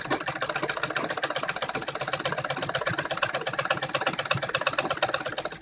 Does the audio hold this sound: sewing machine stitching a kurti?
yes